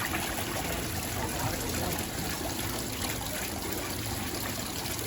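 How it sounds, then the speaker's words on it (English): Steady, continuous trickle of an indoor water feature by a fish tank, close and even, with no pauses or voices. "There's like a water feature in here."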